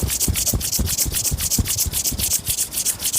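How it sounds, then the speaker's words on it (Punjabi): Two hands rub briskly together in a steady back-and-forth rhythm, making a close, loud, dry swishing with regular soft thumps and no speech. "ਚੰਗੀ ਤਰ੍ਹਾਂ ਰਗੜੋ ਚੰਗੀ ਤਰ੍ਹਾਂ ਰਗੜੋ"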